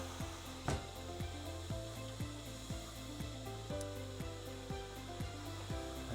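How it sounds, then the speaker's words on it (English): A Sitek Doublestack 8300-S spin rinse dryer running with a constant mechanical drone and a rhythmic pulse about twice a second, plus one sharp knock early on. "Right now we're going through a typical spin rinse dryer process."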